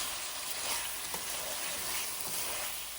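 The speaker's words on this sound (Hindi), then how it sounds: "1 चम्मच लहसुन अदरक पिसा हुआ डाल के 2 मिनट पका लेते हैं।" Garlic-ginger paste frying with onions in a hot pan, a steady close sizzle and crackle with light stirring scrapes throughout, no voices.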